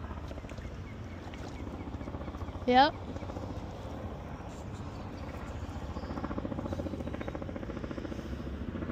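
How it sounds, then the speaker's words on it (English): A helicopter passes overhead near a river on a rock-hunting outing, a steady low rhythmic rotor thump lasting throughout, moderately loud and growing slightly, with people talking briefly over it. "Another helicopter."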